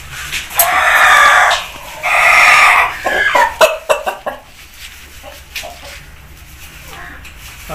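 A rooster crows loudly twice in long drawn-out calls, followed by scattered clucks and clicks.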